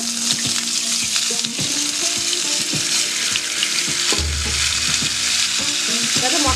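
Green chili paste and a splash of water sizzling in a hot pan while pabda fish curry is cooked, with a steady loud frying hiss, stirring scrapes and a low bubbling rumble toward the end.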